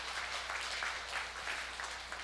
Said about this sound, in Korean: 가장 큰 하나님께 영광의 박수를 한번 드리겠습니다